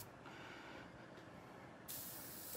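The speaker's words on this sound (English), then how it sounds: "So I'm going to do a light spraying right here in the corner of the eye." An airbrush sprays skull face paint lightly onto a face near the corner of the eye, giving a faint, steady airy hiss that brightens briefly near the end.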